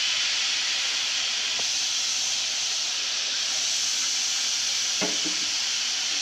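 Mutton pieces dropped into chilli-powder masala for Chettinad mutton gravy, giving a steady loud hiss and sizzle throughout, with a couple of brief clunks of stirring.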